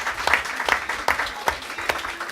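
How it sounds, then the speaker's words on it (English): Audience applause honoring a guest at a panel talk, a steady crowd clapping with sharp repeated bursts throughout, fairly close and continuous with no talk over it. "Let's give him another big round of applause."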